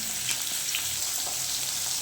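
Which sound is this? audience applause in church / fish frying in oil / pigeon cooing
fish frying in oil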